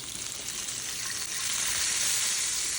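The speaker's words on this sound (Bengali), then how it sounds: "খুব ভালোভাবে উভয় পাশ ভেজে নেব" Fish frying in hot oil for a radish leaves dish, a steady close sizzle that swells slightly louder partway through, with no voices.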